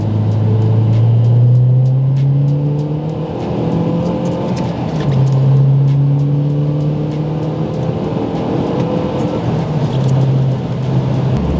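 Stock MazdaSpeed 3 hatchback accelerating hard through the gears in a pull, the engine note rising, dropping at each shift and climbing again, loud and steady with road rumble beneath.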